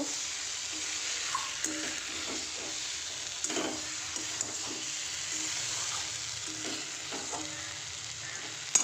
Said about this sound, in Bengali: আর এদিকে তরকারিটা চাপে দিয়েছি।